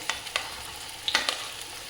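Pieces of taro fry in hot oil, giving a soft, steady sizzle broken by a few sharp crackles and pops, close and moderately loud, with no talk.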